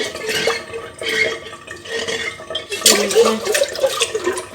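A kefir strainer rinsed under hot tap water, gurgling and splashing in uneven bursts that swell louder in the last half.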